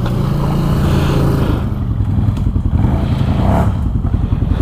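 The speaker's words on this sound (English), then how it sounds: "I can just sit here and spin. because I'm in two-wheel drive." A Can-Am Outlander ATV in two-wheel drive with its wheels spinning on a rough trail, the engine revving loudly and steadily up close with a chugging, rattling throb.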